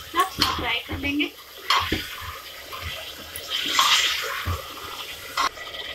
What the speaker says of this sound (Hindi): अब इसमें हम डालेंगे ये कीमा। अभी हम 2 से 3 मिनट तक फ्राई कर लेंगे।